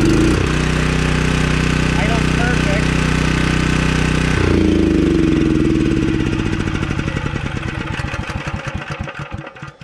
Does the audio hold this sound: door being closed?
no